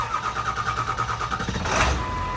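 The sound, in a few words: Ford Powerstroke 7.3L diesel engine cranking and starting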